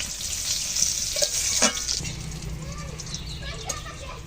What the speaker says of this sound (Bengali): আবার নেড়ে ছেড়ে সুন্দর করে ভেজে নিলাম